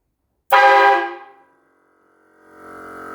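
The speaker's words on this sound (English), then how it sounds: "4 train horns on a Harley Davidson." One loud, blaring blast of four train horns mounted on a Harley-Davidson motorcycle sounds abruptly up close and cuts off after about a second, then an engine hum slowly builds.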